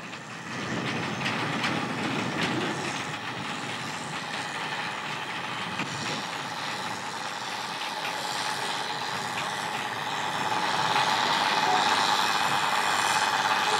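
A narrow-gauge freight train double-headed by two locomotives near Mügeln rolls past, a steady close rumble with faint clicking wheels and a slight swell in loudness toward the end.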